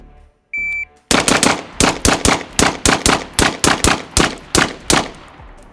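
Rifle fitted with a red dot sight firing a rapid string of about fifteen loud, sharp gunshots in quick, steady succession outdoors, preceded by a short electronic timer beep.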